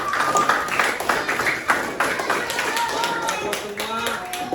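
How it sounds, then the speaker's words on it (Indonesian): Children clapping their hands together in a classroom, a brisk patter of many claps with voices chattering through it, close and fairly loud. "Tepuk tangan buat kalian semua."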